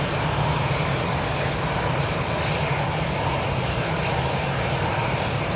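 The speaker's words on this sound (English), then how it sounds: "Oh, we've got a Dreamliner coming out over here." Boeing 787 Dreamliner jet airliner at Manchester Airport, a loud, steady broadband engine roar throughout with no voices.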